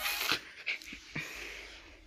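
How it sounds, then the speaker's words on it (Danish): A dog pants and breathes in quick, soft bursts, close by and fairly quiet, with a few short whimpering sounds over about two seconds. "Og det er en hund."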